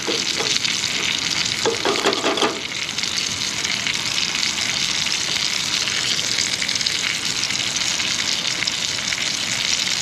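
Sausage fries in a pan with a steady, close hiss and crackle of spattering juices, constant throughout with no talking.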